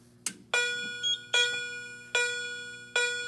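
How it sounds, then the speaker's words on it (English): Simplex 4010 fire alarm panel in manual evacuation mode, its alarm sounding as a loud, repeating electronic tone in regular pulses, four strong blasts close by with no talking. "See our alarms are sounding."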